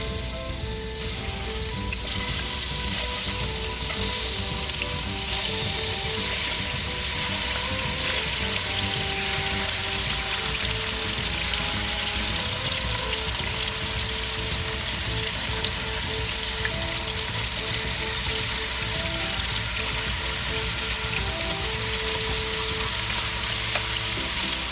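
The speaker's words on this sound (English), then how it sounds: "Now we will be slightly frying also the chicken." Chicken fries in a pan for a calderita recipe, giving a constant dense sizzle and crackle with no pauses, close up and alone.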